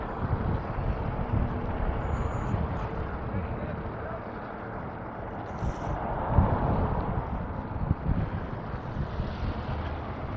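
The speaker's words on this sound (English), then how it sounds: "Bit breezy." Breezy outdoor wind buffets the microphone on a city walk in front of Roberts Plaza in Regina, a steady broadband rush with a few stronger gusts near the end.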